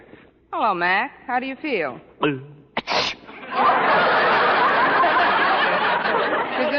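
A frog sneezing as a radio comedy sound effect: one sharp, loud sneeze-like burst follows a man's speech, then a steady rushing hiss continues to the end.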